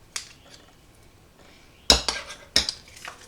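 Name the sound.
stirring tomato puree into pizza sauce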